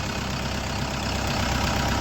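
A LOVOL 504 tractor with air conditioning idles nearby, its engine giving a steady, even mechanical drone throughout the brief stretch with no voices.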